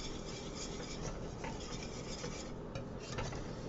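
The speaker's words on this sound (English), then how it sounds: "just gonna whisk this up one more time" A whisk scrapes and rubs steadily against a pan while a thick moussaka sauce is beaten, producing a close, continuous rasping swish with no voices.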